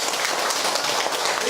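A lecture-hall audience claps steadily for a monk, a dense, even patter of hands filling the short moment with no voices on top.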